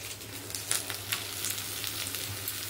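Garlic lightly frying in oil in a pan, a soft continuous sizzle with scattered crackles and occasional stirring, close but fairly quiet, no voices.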